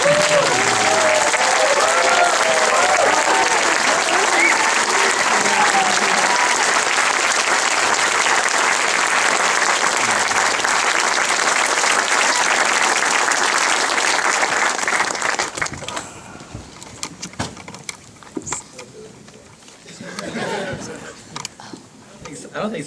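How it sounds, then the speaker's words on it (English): A film festival audience gives the film crew a loud, sustained round of applause for about fifteen seconds, then it dies away into scattered claps, chatter and a few chuckles in the hall. "If everyone who worked on the film could please stand up and have a little round of applause"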